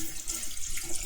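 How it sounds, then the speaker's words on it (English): Water pours steadily into a glass jar with a slightly imperfect gasket, a continuous bright splashing trickle running close and unbroken for the whole moment. "and I just pour in water."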